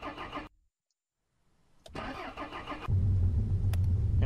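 A BMW in the game Mon Bazou: a running engine cuts out to silence, the starter cranks, and the engine catches and settles into a loud, steady idle close by, with no talking.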